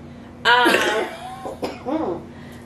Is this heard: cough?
yes